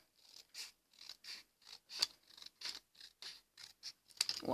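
Close-up scissors make a steady run of about a dozen short, crisp snips through a strong piece of paper, finishing the cut-out of a Christmas tree gift tag. The snips sound alone, with no voices.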